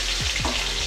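Chopped green chili sizzles in hot mustard oil in a wok for chili chicken, a brief, loud and steady frying hiss heard up close with faint stirring and no speech.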